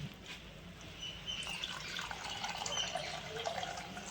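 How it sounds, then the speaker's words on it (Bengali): Water is poured into a pan of eggplant being cooked with black mustard, a soft continuous splashing and trickling with faint drips, fairly quiet and with no one talking. "এখানে আমি জল দিয়ে দেবো"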